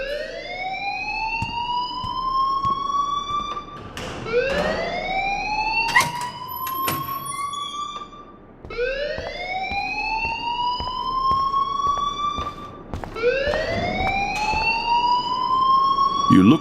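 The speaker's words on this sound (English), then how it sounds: "please turn off that alarm since that's your job." An electronic school fire alarm in the video game Life is Strange gives four loud, repeated rising whoops that sweep upward and sustain, with an occasional high beep and no talk over them.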